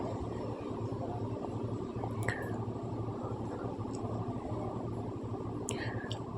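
Onions and green chilies sautéing in a pan for a pearl spot fish curry, giving a steady, close, continuous sizzle with occasional faint wet pops and no talking.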